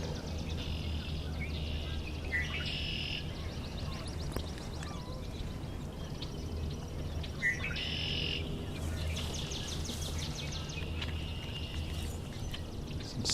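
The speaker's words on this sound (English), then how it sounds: "Lots of swamp sparrows." Swamp sparrows sing in a marshy spot, with repeated even trills and chirpy phrases from more than one bird, moderately far off over a constant low rumble.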